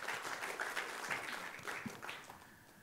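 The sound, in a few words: applause in church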